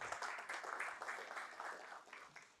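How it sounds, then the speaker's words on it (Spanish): Audience applause at a forum on regenerative agriculture and livestock beyond deforestation, a steady, fairly faint wash of many hands clapping that holds throughout and thins slightly toward the end. "Aplausos también para Lucía."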